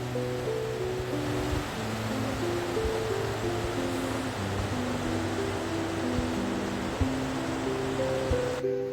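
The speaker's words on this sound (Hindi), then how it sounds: "ये नदी है।" A mountain river in Uttarakhand on the Kedarkantha trek route rushes steadily, a constant broad roar of flowing water with faint tonal hum underneath, with no talking.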